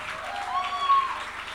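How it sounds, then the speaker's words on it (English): A short burst of audience clapping at a tech community talk greets a speaker's introduction, moderate in level and lasting under two seconds. "please give her a clap."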